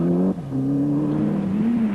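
A Ford Escort rally car engine drones loudly and steadily on a rally stage, with a brief dip in pitch as it shifts gear before pulling on again, alone without talk.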